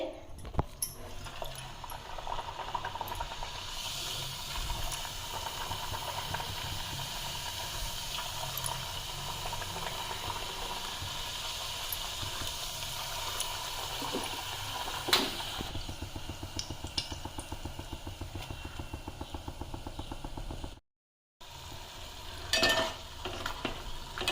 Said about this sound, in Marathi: छान मस्त पुऱ्या लाटून घेतलेल्या आहेच तळून घेते तेल पण मस्त तापलं आहे